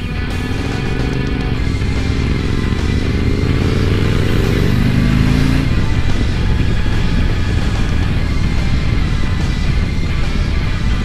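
A Harley-Davidson Street Glide motorcycle engine roars steadily while riding, revs rising and shifting, with constant wind and road noise throughout.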